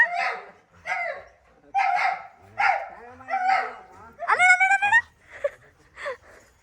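Village dogs bark and yip close by in a rapid run of repeated barks, with a whining note partway through and people talking in the background.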